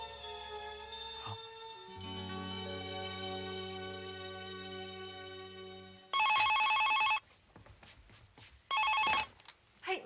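Telephone ringing in two loud, sharp electronic bursts of about a second each, separated by a short pause, after a stretch of sustained music.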